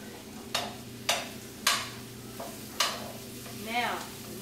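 Four tablespoons of butter are stirred around a hot pan, with a steady low sizzle broken by a handful of distinct scraping knocks from the utensil against the pan.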